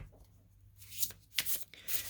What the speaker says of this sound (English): I like to pre-shuffle and cut when I get in the room so that I can get the energies flowing again.